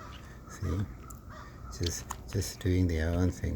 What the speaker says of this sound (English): You can hear the birds and the music and the sunshine outside.